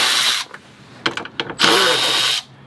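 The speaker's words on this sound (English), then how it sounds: "I'm gonna take these screws off," Close-up bursts of a handheld power drill backing screws out of the lip on a BMW M4, a couple of short whirs and a longer spin separated by brief pauses, loud and near with no talking.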